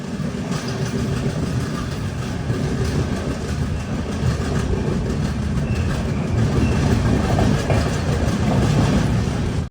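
The Jamnagar–Tirunelveli Express pulls into Vapi station in Gujarat, a steady loud rumble of wheels and carriages rolling close by, with faint clickety-clack over the rails and no voices.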